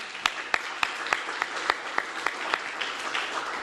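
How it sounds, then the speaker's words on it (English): A symposium audience gives a round of applause for Amy after a keynote, dense and continuous clapping at moderate distance, a few individual claps standing out. "round of applause for you, Amy"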